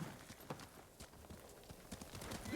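Horse hooves in Ghost of Tsushima video game, faint irregular clip-clop steps at a quiet distance, light taps spread across the moment with a low background hum.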